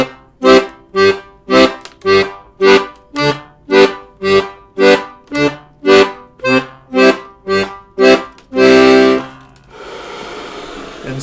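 An accordion plays alternating bass notes that return to C, in a steady pulse of about fifteen even, punchy bass-and-chord hits. A longer held chord follows, then fades into a quiet bellows hiss.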